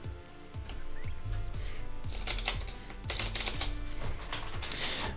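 Tarot cards are shuffled by hand up close, a string of quick riffling flutters and soft taps repeating in a steady rhythm with no talk.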